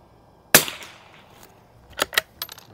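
A single sharp rifle shot from a Winchester 52c fired at a 50-yard match target rings out close by, followed by a few quieter clicks and clatters of the action.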